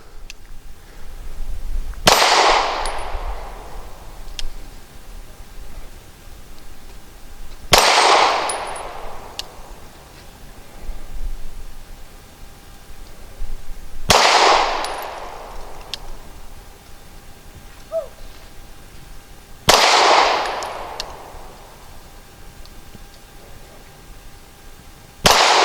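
Four sharp pistol shots from a Walther P99AS fired at a moving target on a range, spaced about six seconds apart, each a loud crack with a ringing tail and faint clatter between.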